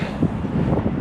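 Strong wind buffeting an outdoor microphone beside a river on a fishing trip in Denmark, a loud, continuous low rumble with no other clear sounds.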